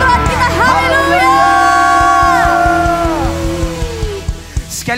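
A church congregation at a worship service cheers and shouts hallelujah together, a loud crowd roar with rising whoops that fades out into scattered claps and calls.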